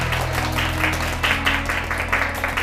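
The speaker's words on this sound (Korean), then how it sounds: "최수호 본부장님을 큰 박수로 자리에 모셔볼게요." A studio audience at a lecture show claps to welcome a marketing executive to the stage, brisk applause in uneven bursts over a low steady hum in the room.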